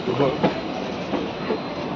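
A passenger train runs along hill rails on the way to Silchar, rounding a curve. Its steady wheel rumble and soft clickety-clack carry through the whole stretch, with faint voices in the background.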